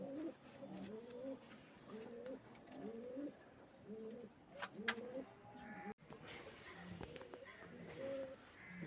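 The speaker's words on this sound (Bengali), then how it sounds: "এটাও ধরা কবুতর আমার" Captured pigeons in a loft coo in repeated soft, rolling phrases nearby, with a few brief clicks and rustles between calls.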